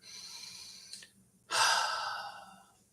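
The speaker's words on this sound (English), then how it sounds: "take a big deep breath" Someone takes a big, deep breath, close to the mic: a soft inhale, then a brief pause, then a long, loud, airy exhale that slowly fades, with no talking.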